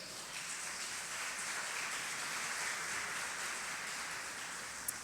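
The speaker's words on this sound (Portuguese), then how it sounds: "Aplauda o Senhor." A church congregation at a worship service applauds steadily, a dense, even wash of clapping heard at a moderate distance with no voices over it.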